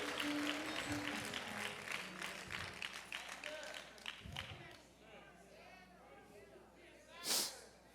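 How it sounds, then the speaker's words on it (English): A church congregation claps along in a sermon setting, a steady crowd of hand claps mixed with voices that fades after a few seconds, followed by a brief sharp burst near the end. "Clap your hands"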